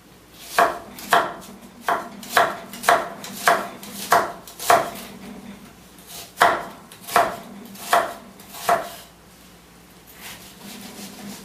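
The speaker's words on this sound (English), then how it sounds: "And then chop the onion." Knife chopping an onion on a cutting board: a dozen or so crisp, evenly spaced knocks in two quick runs with a short pause between, close and clear with no talking.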